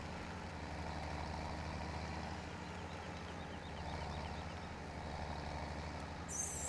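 A tractor or farm truck engine from the farming game Landwirtschafts-Simulator 17 drives steadily during straw collecting, a continuous low rumble at even loudness with a faint high chirp near the end.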